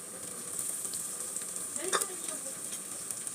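Hotdog frying with garlic in a pan for Filipino spaghetti: continuous close sizzling with light stirring scrapes and a brief louder spatter midway, no talking.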